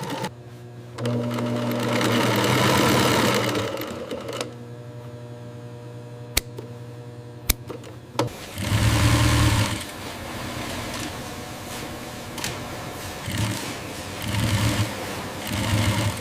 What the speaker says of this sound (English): The needle hammers home.